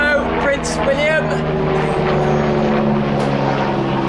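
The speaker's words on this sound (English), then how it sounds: "so that was the air ambulance" An air ambulance helicopter drones overhead with a steady rotor and engine hum, while a person talks nearby over the noise.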